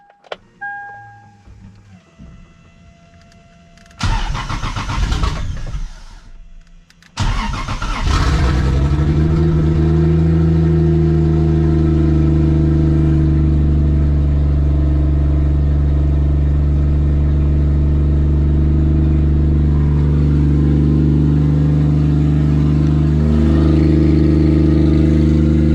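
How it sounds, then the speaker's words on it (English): A Lexus IS300 with a CD009 six-speed swap cranks briefly, stumbles, then fires and settles into a loud, steady idle with rising revs, close by and with no talk. "try and crank this thing"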